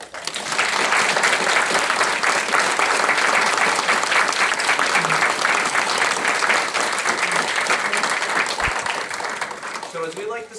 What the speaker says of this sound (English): Mel and Aaron, can we give them a round of applause?